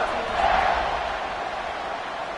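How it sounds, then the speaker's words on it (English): A stadium crowd buzzing in the College Football 26 video game makes a steady, broad roar of many voices that holds throughout, swelling slightly early on, with faint commentary underneath. "this crowd is buzzing after that last score"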